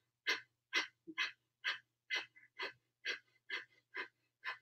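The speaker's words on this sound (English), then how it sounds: "And begin breath of fire." Breath of fire, a rapid yoga breathing exercise, comes as about a dozen sharp, forceful breaths in quick, even rhythm, close and clear against near silence.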